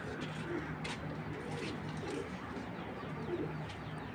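Racer pigeons imported from Belgium coo softly and repeatedly, a few low murmuring calls standing out over a steady close background hum, with faint voices at times.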